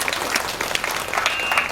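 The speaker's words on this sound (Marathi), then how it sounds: "बर एकदा टाळ्या वाजवा." A crowd claps loudly and briskly at a devotional kirtan in Ghogargaon village, a close burst of dense hand-clapping lasting under two seconds, with a faint whistle-like tone near the end.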